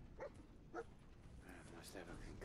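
In the video game Fallout 4, played in survival mode, the companion dog gives two short, quiet barks over a low background rumble, with a voice talking over them.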